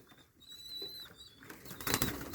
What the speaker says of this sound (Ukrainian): От ваші голуби.